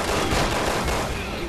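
Burst of gunfire in the zombie shooter Resident Evil 6, dense and close with rapid overlapping reports over roughly a second and a half, with no talk over it.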